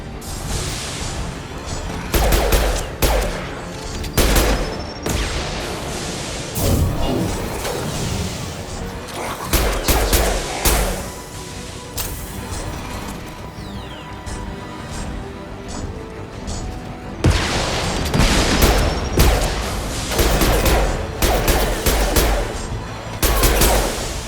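Sniper rifle fire in the Mass Effect 2 video game: repeated loud, sharp shots and bursts of gunfire among crashing combat noise and game music, continuing across the whole stretch.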